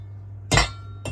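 Hexclad nonstick cookware pans clink together in a sharp metallic knock that rings out briefly, then a second, shorter clink follows.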